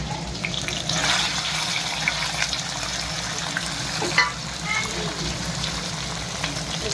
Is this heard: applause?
no